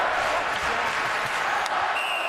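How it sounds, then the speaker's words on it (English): A sold-out crowd at Madison Square Garden roars at a Flyers–Rangers hockey game, a loud, continuous wash of cheering and applause with a commentator's voice faintly mixed in. "this crowd at Madison Square Garden in a sold-out house, delighted that the Rangers are now within a goal"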